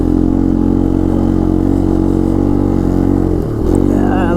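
Yamaha Tri-Moto 200 three-wheeler ridden through spring snow, its engine droning loud and close with a steady labouring tone and a brief dip before picking back up.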